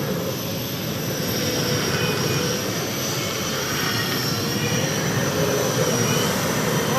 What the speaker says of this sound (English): We're ready to go with the turbine power here in the pull-off for the heavy modifieds